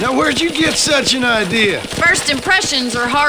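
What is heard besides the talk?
No everyday noise stands out behind the speech.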